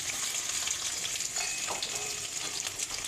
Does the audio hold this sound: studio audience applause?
no